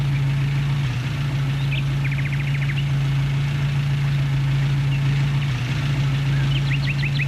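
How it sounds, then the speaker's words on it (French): A car engine idling in neutral without revving, a steady low drone held throughout, with faint birdsong chirping in the background. "T'entends, le moteur, c'est juste une bagnole que t'as démarré, mais juste, t'accélères pas. Elle est au point mort."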